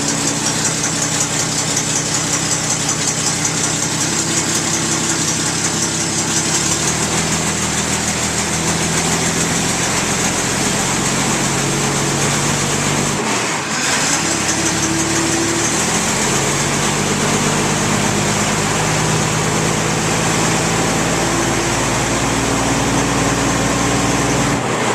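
A 1921 Paige car engine runs steadily after starting, a loud continuous idle with a brief dip and change in pitch midway, as if the throttle or timing is adjusted.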